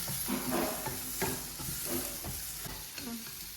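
Capsicum fries in a hot pan while being stirred, with a steady close sizzle and repeated scraping strokes of the spoon at a quick, regular pace.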